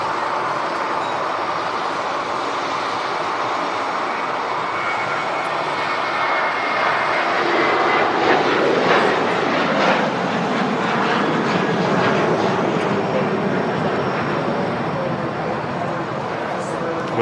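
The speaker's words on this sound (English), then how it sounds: "We've got the next 757 about to touch down as well" A Boeing 757 landing at Manchester Airport, its broad engine roar rising and swelling through the middle then staying steady, loud and continuous, with people talking over it.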